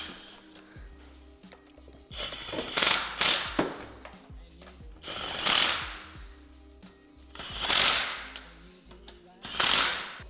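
A power tool on a MK4 Toyota Supra engine drives down coil pack bolts in four loud, close whirring bursts with ratcheting mechanical clatter, quieter handling noises between them.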